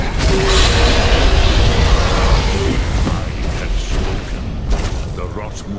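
A Greybeard's Thu'um shout in Skyrim, a loud rumbling blast that starts at full force, fills the air and slowly fades, with a deep, booming, echoing roar.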